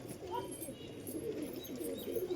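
Home pigeons coo softly and quite faintly in a low, murmuring pattern under steady background noise, with no talk over them.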